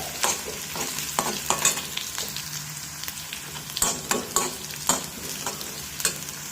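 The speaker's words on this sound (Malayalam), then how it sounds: "പിന്നെ ഉള്ളിയും പച്ചമുളകും എല്ലാം കറിവേപ്പിലയും എല്ലാം കൂടെ ഇട്ട് കൊടുത്തു അതിൻ്റെ കൂടെ മുളക് കൂടി ഇട്ട് കൊടുക്കാം എല്ലാം കൂടെ നന്നായി ഒന്ന് വഴന്ന് വരട്ടെ" Onion, green chilli, curry leaves and chilli sautéing in a hot pan, with a steady close sizzle broken by repeated scraping stirs of a spoon.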